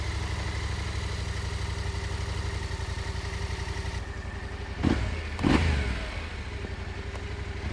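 An adventure motorcycle engine idles steadily after an oil change, with an even close putter and a couple of short revs from clutch or throttle blips partway through, no speech.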